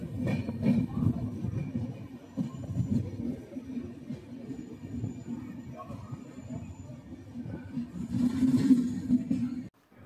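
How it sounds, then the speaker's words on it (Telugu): Inside the Mumbai–Visakhapatnam LTT express on ICF coaches just after departing Kaikaluru: a steady low rumble of the moving train with faint clanks, swelling louder near the end before cutting off. "కరెక్ట్గా 1 మినిట్లో అయితే కనుక ట్రైన్ అయితే కనుక స్టార్ట్ అయిపోయింది మనది కైక్లూరు నుంచి"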